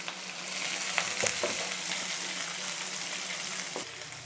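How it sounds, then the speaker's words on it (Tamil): Onions, green chillies and curry leaves sautéing in a pan for an aloo masala, giving a continuous moderate sizzle with a few light stirring scrapes and taps and no talking. "வெங்காயம் கூட இப்போ சேர்த்துடுங்க. சேர்த்துட்டு எல்லாம் நல்லா வதக்கிடலாம்."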